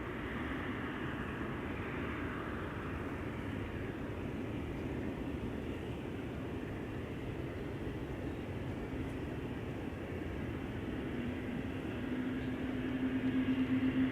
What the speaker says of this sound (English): The SAS Embraer 195 coming this way.